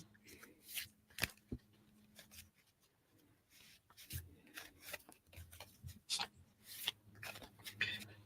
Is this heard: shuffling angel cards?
yes